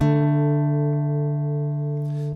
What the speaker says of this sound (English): And then comes the D, played in the same way as before.